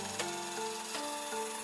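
A wooden mallet being sanded by hand, giving a steady, close-up rasping rub with several repeated strokes in a quick, even rhythm.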